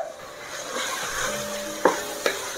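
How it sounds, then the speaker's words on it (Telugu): Turmeric and coriander powder frying in a pan for avarekalu pulao, a soft, steady sizzle with light stirring and two brief metallic spoon clinks near the end, no voices. "సో ఇవన్నీ మనము బాగా ఫ్రై చేస్తాము"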